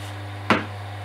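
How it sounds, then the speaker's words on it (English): CA glue activator gets a quick spray onto a pen blank turned on a lathe: one short, soft hiss burst that fades quickly over a steady low workshop hum. "Quick spray."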